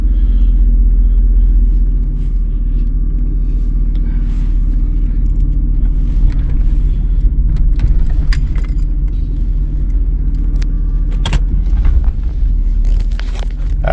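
A 1982 Trans Am with a newly installed Hypertech chip on the road, giving a steady loud low engine rumble and drone with little variation and no talk.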